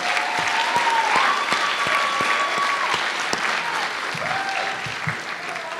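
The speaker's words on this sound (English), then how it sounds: "just give the seniors a special round of applause" A crowd applauds seniors at a fall athletics banquet, steady clapping filling the room for several seconds with faint tonal sounds drifting through.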